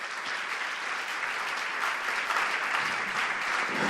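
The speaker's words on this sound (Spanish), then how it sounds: "¿Le puede dar un fuerte aplauso al Señor?" Congregation in a church service applauding together, a broad, steady clatter of many hands that holds at an even level throughout with no speech on top.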